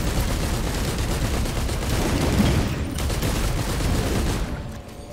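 An orbital bombardment strike in a video game, a sustained barrage of heavy rapid blasts and crackling explosions, loud and continuous, easing off toward the end.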